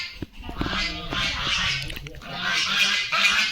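A group of ducks on a farm gives repeated nasal quacks and honks close by, in bursts with short pauses between them, over faint background noise.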